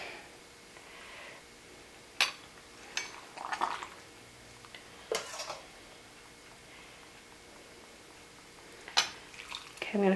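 Dill-seed pickling liquid stirred in a jar for pickled okra, heard as a few sharp clinks and taps of utensil on glass spread over the stretch, close and fairly quiet, with soft liquid swishes between the strikes.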